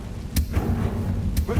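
A Confringo spell blast from Hogwarts Legacy lands as two heavy booming impacts about a second apart, close and loud, each with a short rumbling tail.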